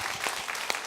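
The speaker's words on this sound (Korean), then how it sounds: "다 같이 박수로 영광을 드리겠습니다" A church congregation clapping together in praise during a worship service, a brief burst of close, dense applause with no voices.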